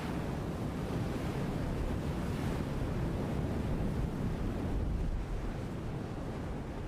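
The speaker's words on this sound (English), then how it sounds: "In stormy weather, crashing waves and strong wind send salty seawater up onto the golf" Stormy sea surf crashing continuously alongside a coastal golf course, with strong wind roaring across the microphone in a dense, steady wash of noise.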